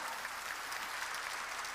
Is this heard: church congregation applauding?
yes